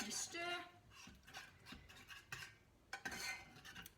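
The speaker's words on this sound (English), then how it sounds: "Giving it a bit of a cheeky stir." Milk and butter being stirred in a pan, with a spoon scraping and clinking against the metal in short, irregular strokes, fairly close and quiet, with no one talking.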